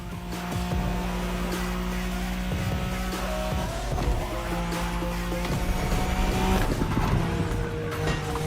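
A car in a racing video game takes rough, sharp turns, with a constant loud engine drone, repeated tire squeals and skids, and thuds over the motor.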